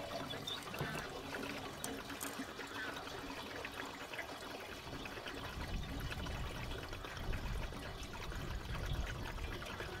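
Petrol pours steadily into a car's fuel tank, a continuous splashing trickle that runs the whole time at moderate, close level with no speech.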